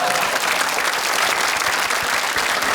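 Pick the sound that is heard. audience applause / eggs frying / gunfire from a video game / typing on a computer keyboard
audience applause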